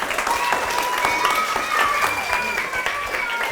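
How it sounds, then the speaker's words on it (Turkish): A school class applauds a classmate during a drama lesson, a continuous, fairly loud patter of clapping with children's voices and chatter mixed in. "Alkışlıyoruz arkadaşımızı"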